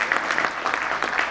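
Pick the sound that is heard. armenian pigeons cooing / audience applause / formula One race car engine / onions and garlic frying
audience applause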